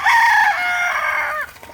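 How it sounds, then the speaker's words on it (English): A Copper Maran rooster crows once, close and loud, a strained cock-a-doodle-doo that holds its pitch and then drops away sharply at the end, with no other sound around it. "that is my copper Moran rooster"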